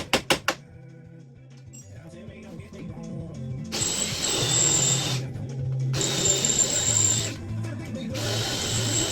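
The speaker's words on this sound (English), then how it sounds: "we're gonna go ahead and get started on drilling each one of these out" Power drill bores out spot welds on a car frame, whining in long loud bursts with short pauses between them. A few sharp knocks come first, then the drill runs steadily close by.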